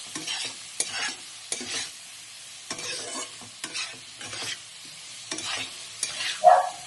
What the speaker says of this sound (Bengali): আদা, জিরে, লঙ্কার গুঁড়ো সব কিছু দিয়ে ভালো করে কষিয়ে নেব